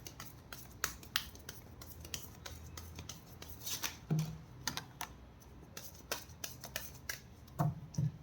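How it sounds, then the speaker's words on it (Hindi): Tarot cards are shuffled by hand in a close, quiet room, with a run of crisp irregular riffling and snapping card flicks spread throughout. "This is my last shuffle."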